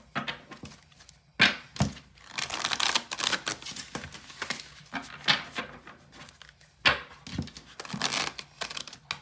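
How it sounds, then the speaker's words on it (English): A tarot card deck shuffled up close: quick papery riffles and soft slaps come in several bursts, with crisp flicks and thumps of the cards knocking together between them, and no talking. "I'm going to give our tarot deck a good shuffle."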